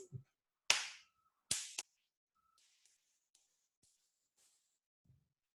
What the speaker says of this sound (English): Okay, try this. First clap.